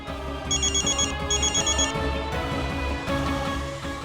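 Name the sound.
telephone ringing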